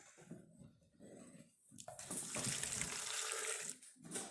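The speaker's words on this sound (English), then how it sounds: "now I'm going to pour this straight into my" Hot liquid pours steadily into a blender, a rushing splash that starts abruptly and continues for a couple of seconds before cutting off.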